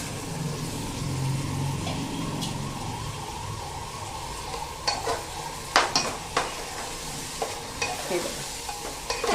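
Soaked dal and rice for Khandeshi masala khichdi are sautéed in a pan, a soft steady sizzle with scraping stirs and spoon clinks becoming more frequent toward the end.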